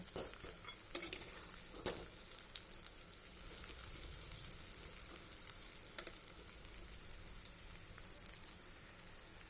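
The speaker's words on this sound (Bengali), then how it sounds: "এখন তেলের মধ্যে ম্যাগিগুলো ভালো করে ভেজে নেব" Maggi instant noodles sizzle and crackle in hot oil, a soft, continuous frying hiss with occasional stirring scrapes, faint and without voices.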